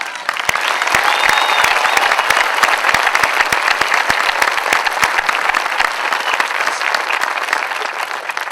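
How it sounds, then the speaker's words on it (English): Sustained, loud applause fills a 2019 graduation ceremony as the crowd honors enlisting graduates and servicemen and women on Memorial Day, dense clapping running steadily throughout. "Please join me in applauding and thanking our enlisting graduates and our servicemen and women"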